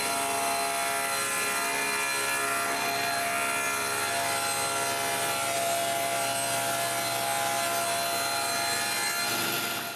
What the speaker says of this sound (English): I start by cutting 2 sheets of plywood of 1/2 inch to size.